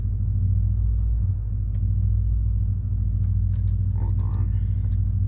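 A 2013 BMW 550i with a six-speed manual, H-pipe and catless downpipes drones with a steady, loud, low engine rumble throughout the drive, with faint cabin sounds near the end.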